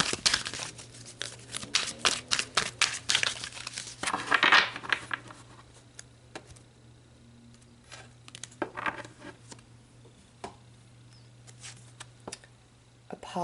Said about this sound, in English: let's pull some cards to look at the storyline of this